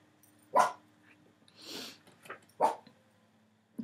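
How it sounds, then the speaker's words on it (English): Several sharp dog barks nearby, spaced irregularly across a quiet room, with a softer whine or yip between them. "It's so much fun to do videos with the dogs barking."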